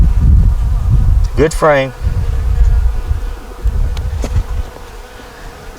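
Honeybees buzz steadily around an open frame lifted from a nuc hive, with drones present, while a person speaks briefly close by.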